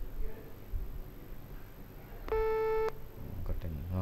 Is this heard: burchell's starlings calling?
no